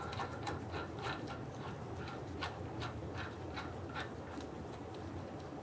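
A wrench works the front CV axle nut on a 2000-2007 Ford Focus, running it down snug with steady ratcheting clicks and a few sharper metallic ticks, close up with no talking.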